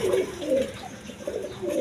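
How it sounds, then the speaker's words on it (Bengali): A pair of Sirazi pigeons, a male and a female, give repeated low throaty coos in several distinct bursts, close and fairly loud, with no one talking. "দর্শকদের এখানে এক পেয়ার সিরাজি কবুতর আছে"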